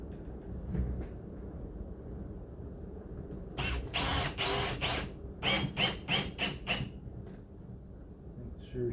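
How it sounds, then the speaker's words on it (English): A power drill drives screws into wood while building a simple ski stand, sounding close and loud: one sustained whirring run, then a string of short, stuttering bursts as the screw is sunk, with quiet low rumble before and between. "I'm just going to put these screws all the way in and make sure they sink into the wood"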